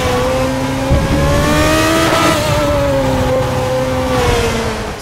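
A race car engine in the Raceroom racing game, held at high revs in second gear on a short gearbox with the tyres sliding, a loud continuous whine that rises and dips slightly alone throughout.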